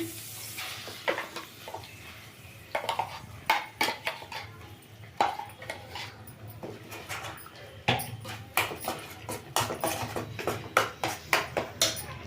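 Ground masala paste is added to a pan of hot oil, with clanking metal utensils, scraping and irregular clatter against the pan over a low background hum, no voices heard.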